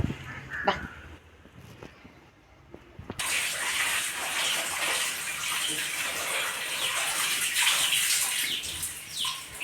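Water from a tap running steadily while something is washed, a near continuous rushing splash that starts abruptly after a few seconds of quieter handling knocks, with no talk.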